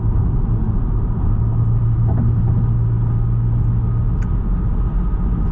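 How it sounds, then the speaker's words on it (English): A car with a CVT transmission runs at a steady idle in hot weather, a constant low droning rumble with no revving, heard from close up. "it's got a CVT transmission, so yeah, you can imagine how it sounds and how it runs"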